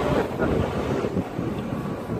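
Strong wind buffets the microphone in a continuous roaring rush during a quadcopter test flight, loud and gusty throughout, with no voices.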